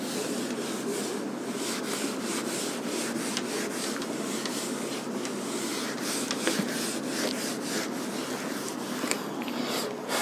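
A board being rubbed clean of writing during a maths lecture in a classroom, a steady close scrubbing and swishing that runs without a break for about ten seconds, with no voices.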